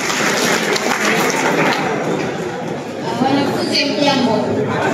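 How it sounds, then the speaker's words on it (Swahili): Schoolboys clap for their teacher in a classroom, a loud dense patter of many hands mixed with chatter and voices throughout, close and continuous. "Makofi mwalimu"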